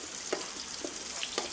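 Onion and garlic frying in oil until browned, a continuous close sizzle with a few soft stirring knocks.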